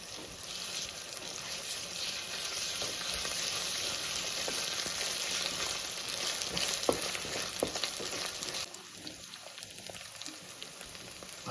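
Ginger-garlic paste sizzles in hot oil while being stirred for a pomfret fish curry, a continuous close hiss of frying broken by occasional scrapes and taps of the spoon, with no talking.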